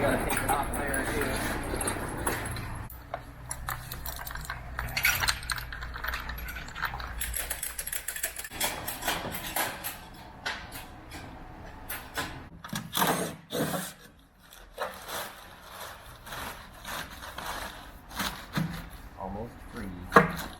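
A diesel engine is unbolted from a wooden pallet with hand tools, bringing repeated ratchet clicks, metallic clanks and knocks at close range, mixed with speech and shifting around.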